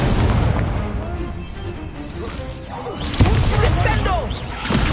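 Incendio fire spell bursting on impact during a Hogwarts Legacy duel, a sharp crackling blast amid dense combat noise, loud and near, with a short spike in the middle as another impact lands.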